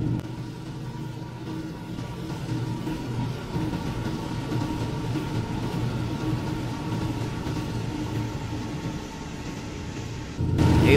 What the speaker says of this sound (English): Wait a minute, that's no yellow light. It's a train.